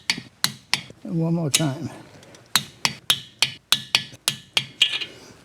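A torque wrench tightens cylinder head bolts on a Black Aermacchi motorcycle, a string of sharp metallic clicks in quick succession close by, with someone speaking briefly between them.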